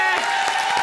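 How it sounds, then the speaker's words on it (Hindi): Studio audience on a comedy show claps in a short burst, dense and steady for under a second, with talk mixed in. "एक बार जोरदार ताली बजा हमारे लिए"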